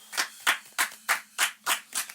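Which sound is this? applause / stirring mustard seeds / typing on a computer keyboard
applause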